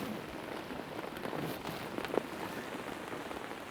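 Steady rain falls on a lake at a carp fishery, a dense even hiss of drops on water with slight swells and one sharper tap, heard close and continuous.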